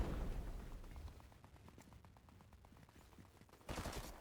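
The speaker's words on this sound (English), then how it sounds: "Managed to miss him with the hand cannon." Hand cannon shots in a battle royale video game: a burst of heavy blasts opens, rapid sharp reports rattle on, and another loud blast comes near the end, all fairly quiet in the mix.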